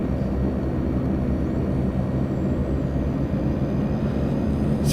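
Steady, loud drone of a Twin Otter's turboprop engines at taxi power in the FSX flight simulator, a dense continuous rumble with no talk over it.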